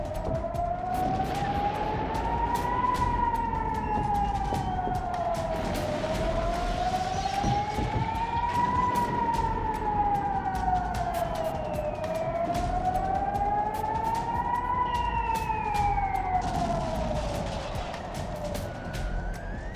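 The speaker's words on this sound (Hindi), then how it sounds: "हर धमाके के बाद इलाके में गूंज उठता है एम्बुलेंस का सायरन" Ambulance siren wailing in slow rising-and-falling sweeps, a steady repeating cycle that stays loud and continuous throughout, with faint background noise beneath it.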